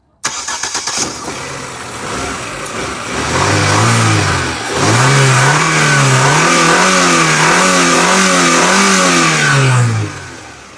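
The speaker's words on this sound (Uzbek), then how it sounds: "Endi bir yoqing ham motorni endi ko'raylik-chi." A car engine cranks and catches, then revs up and down in rising and falling surges before cutting off abruptly at the end.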